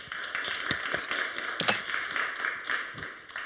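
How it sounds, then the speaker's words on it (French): Applause from an audience at a forum on resilient cities, scattered individual claps from a modest group rising into a fuller burst midway, then continuing unevenly at a moderate distance. "je crois qu'on peut vous applaudir pour ce travail"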